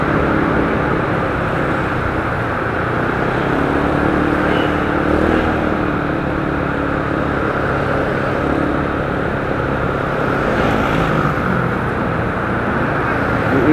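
A Kawasaki Barako 175 motorcycle engine runs close and loud, a steady rough rumble with slight wavering in pitch throughout and no clear speech over it.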